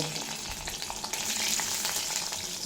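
Tomato frying in oil with panch phoron whole spices for a vegetarian drumstick dish, stirred steadily: a dense, close sizzle with soft scraping strokes throughout.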